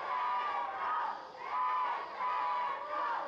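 A lucha libre arena crowd roars for wrestler Engendro Negro's entrance at a triangular tag match with masks and hair at stake, a loud sustained wave of cheering and chanting that swells and dips rhythmically.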